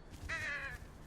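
Crows caw in the horror video game Saint Kotar, a single drawn-out harsh call standing clearly above a low ambient background.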